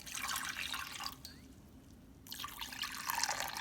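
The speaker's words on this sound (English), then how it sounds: "I'm going to add a cup of water to the bottom of this" Water pours into a pot while making a Mississippi pot roast, a steady broadband splash that pauses briefly in the middle before resuming, close and fairly quiet with no talking.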